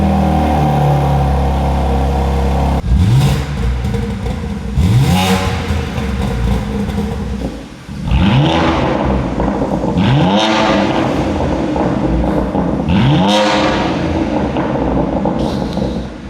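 A BMW G87 M2 fitted with a new Milltek exhaust starts and revs hard several times, each throttle blip rising and falling sharply over a loud, close idle, with no talking.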